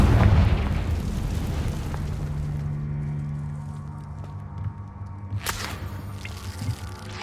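A Confringo blasting spell goes off in Hogwarts Legacy with a loud, booming burst at the start that rolls off into a low rumble, followed later by a couple of sharp cracks and pops.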